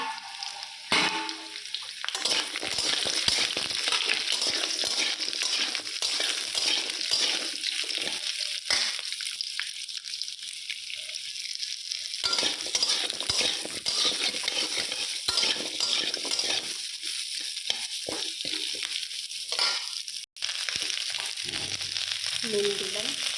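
Olives tipped into hot oil already frying with panch phoron and dried red chillies, a loud continuous sizzle with stirring scrapes and utensil clinks against the pan, up close throughout.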